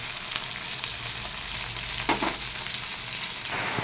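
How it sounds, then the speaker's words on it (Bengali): Okra and eggplant fry in a pan seasoned with salt and nigella seeds, giving a steady, close crackling sizzle throughout with a brief burst of stirring near the middle; no one speaks. "আমার এই ঢ্যাঁড়স আর বেগুনটা বেশ সুন্দর করে ভাজা হয়ে গেছে"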